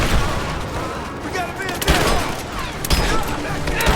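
Rapid gunfire bursts and heavy weapon fire in the Rise of the Tomb Raider video game, loud and dense throughout with sharper shot peaks, mixed with voices talking over the combat.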